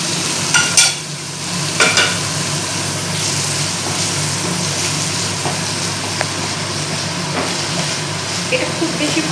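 Onions, capsicum and tomato frying in a pan for an egg chilli dish, a continuous sizzle with occasional utensil scrapes and knocks, steady and fairly loud throughout.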